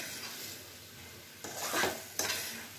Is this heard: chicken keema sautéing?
yes